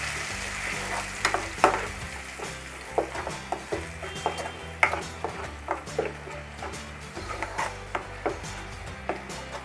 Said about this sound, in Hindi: मीडियम फ्लेम पे इसको हल्का सा गोल्डन ब्राउन होने तक भून लेंगे